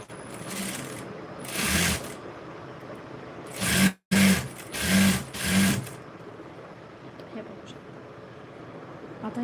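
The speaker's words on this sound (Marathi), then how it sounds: "आता ह्या साईडला दाबपट्टी द्या दाब शिलाई द्यायची ते" A sewing machine running a press stitch along a hook strip runs in several short bursts, loud and near, with gaps between runs and a brief dropout in the middle.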